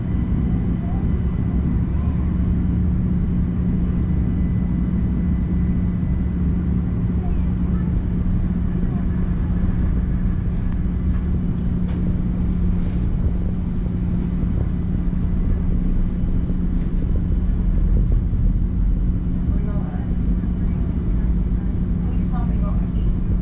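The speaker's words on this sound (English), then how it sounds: "There's a plane over there." Airplane passing overhead near a rail line by a trolley museum in Pennsylvania, a continuous low rumbling drone that holds steady throughout, with a constant hum and faint scattered background noises.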